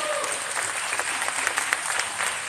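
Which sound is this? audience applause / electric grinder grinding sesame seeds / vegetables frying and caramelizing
audience applause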